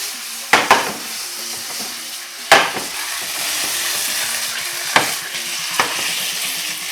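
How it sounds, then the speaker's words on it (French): Bell peppers frying in a pan for Thai-style chicken give a steady, close sizzle, with a few sharp clinks and scrapes from stirring. "Donc là, on va passer à la cuisson, Vivian."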